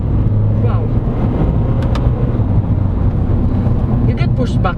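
Inside a 2022 Honda CR-V SX diesel AWD with an automatic transmission, the engine gives a loud, steady low rumble as the car accelerates, with a person talking over it.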